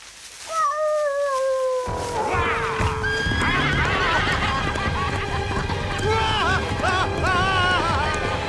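A horse whinnies, then hooves clatter in a rapid gallop with more neighs over a busy, noisy background.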